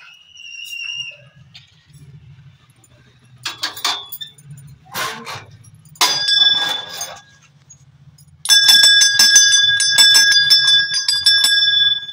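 Metallic temple bell strikes ring out, scattered at first, then a rapid run of clangs with sustained ringing tones, over a low background hum, at Kundeswar temple in Korpada.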